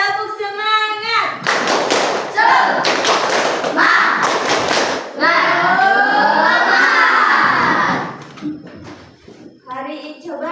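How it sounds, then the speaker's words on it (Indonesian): Schoolchildren doing a rhythmic spirit clap in class, loud bursts of clapping and chanted call-outs in a fixed pattern, close and energetic, with a teacher's voice leading before and after. "Tepuk semangat."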